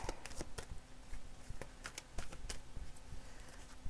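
A deck of tarot cards is shuffled, giving quick crisp riffling snaps and soft slides in an irregular run, faint and close.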